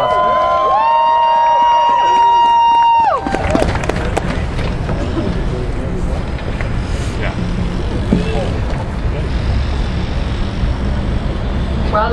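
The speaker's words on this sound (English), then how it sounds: "Big round of applause." A crowd at a protest rally against bill 45 breaks into sustained, dense applause for a speaker being called to the stage, following a few seconds of tonal sound.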